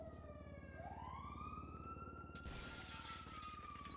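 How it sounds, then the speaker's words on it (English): Glass breaks in a GTA role-play video game, a sudden bright crash and lingering hiss that cuts in partway through beneath a loud, continuous wailing emergency siren. "I hear glass breaking."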